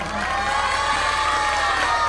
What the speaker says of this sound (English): Give a big hand for Muhammad Shaz